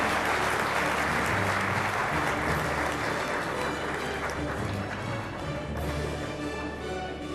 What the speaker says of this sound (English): let's have a huge round of applause